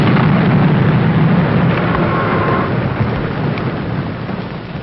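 A thunder and lightning storm rolls in a loud, deep, sustained rumble with a hiss of rain beneath it, easing gradually over a few seconds.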